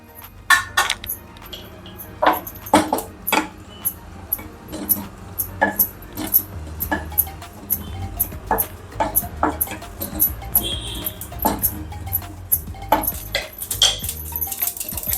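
Cumin seeds being dry roasted in a pan for a Karnataka-style spring onion gojju: frequent close metallic clinks and taps of a spoon against the pan over a low steady hum, with no voices.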